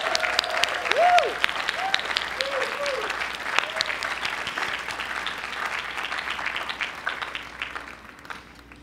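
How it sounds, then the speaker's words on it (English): Graduation audience at the UCLA Anderson commencement applauds the class of 2014, a dense, steady wash of clapping with a whoop and cheers near the start, fading gradually toward the end. "So let's give everyone here a big round of applause."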